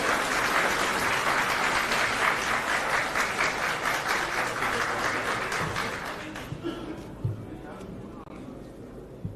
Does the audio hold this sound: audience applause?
yes